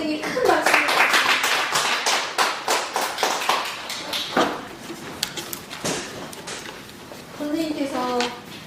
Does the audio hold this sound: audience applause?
yes